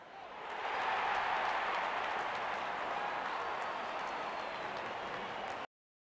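Crowd cheers and applauds in the Real Cricket video game as a steady, broad roar that swells in and holds before cutting off abruptly near the end.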